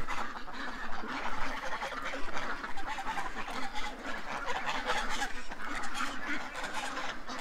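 Noisy waterfowl calling continuously nearby, a mix of honks and quacks in overlapping bursts, no speech.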